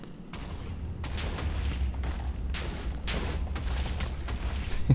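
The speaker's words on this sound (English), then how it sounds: "I'm gonna throw some grenades." Grenade explosions in a modded Minecraft game: a rapid series of booming blasts, several bursts in close succession with ongoing rumbling, loud and continuous without talk.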